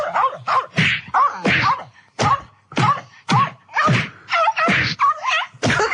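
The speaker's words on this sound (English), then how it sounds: "That's someone beating up a dog." A comedy radio sound effect of a dog being beaten gives a rapid series of thuds and whacks mixed with yelping, dog-like cries, loud and close over about six seconds.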